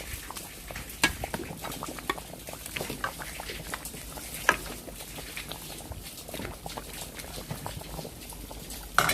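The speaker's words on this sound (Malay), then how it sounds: "Kita kacau sikit-sikit." Beef bones are stirred in hot water in a cooking pot for gear-box soup, making soft, irregular scraping, clinking and bubbling sounds. The sound is fairly quiet and continuous, with no talking.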